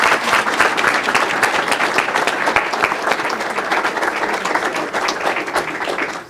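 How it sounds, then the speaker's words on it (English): Sustained audience applause fills a city council meeting chamber, steady and fairly loud throughout with dense overlapping claps and no break. "Let's give them a round of applause for what they do."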